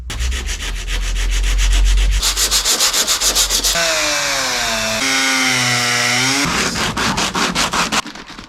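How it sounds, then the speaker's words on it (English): Steady rhythmic rasping of sandpaper rubbed back and forth on a Nissan Skyline R32 GTR under restoration, close and loud, with strokes in quick regular succession and no talking. "I'm going to get a little bit of sanding paper and sand inside here."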